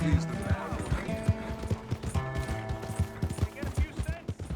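Horse hooves clip-clopping in the video game Red Dead Redemption 2, a steady rhythmic trot of close hoofbeats under background music, with people talking over it.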